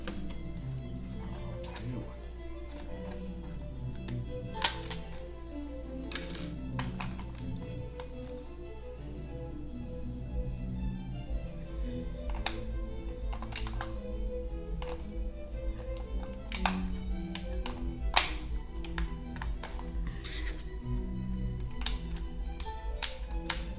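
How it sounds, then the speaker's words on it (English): Keys on a computer keyboard clack in a steady, irregular stream of light taps and sharper clicks throughout, set over a constant low hum and background clutter during a trading livestream. "My keyboard."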